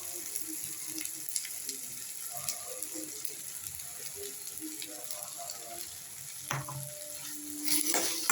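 Wheat semolina (godhuma rava) roasting in a pan, with a steady low sizzle and dry scraping and stirring, a spatula rasping against the metal, louder toward the end.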